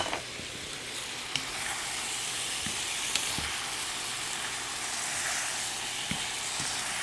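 Beef and onions for chili beef fried rice sizzle steadily in a hot frying pan, a constant close hiss with occasional soft pops and stirring clinks.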